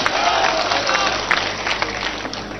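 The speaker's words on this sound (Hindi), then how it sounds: "जोरदार तालियों से आदरणीय कमलनाथ जी का स्वागत करिएगा।" A crowd at a political rally in Ashok Nagar claps and cheers to welcome Kamal Nath, a broad, steady wash of applause lasting a few seconds.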